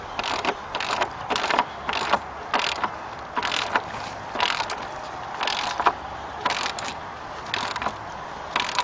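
A ratchet wrench tightens a bolt with a flat washer and lock washer on a wooden osprey platform, giving repeated bursts of rapid clicking strokes in a steady rhythm, close and alone.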